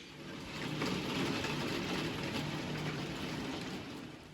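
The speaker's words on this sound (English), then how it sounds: "Just listen to that hail on the roof." Hail pelting a roof during a spring thunderstorm at an allotment, a dense rattling roar heard from indoors that swells in and stays steady.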